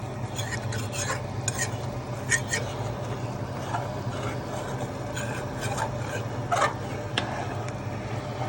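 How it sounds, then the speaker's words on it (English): A metal spoon stirs and scrapes around the sides of a gumbo pot in steady, close rubbing strokes with occasional light clinks, while a person talks throughout. "let's take a little bit of our spoon here and get some of that stuff off the edge that's evaporated out there on the sides"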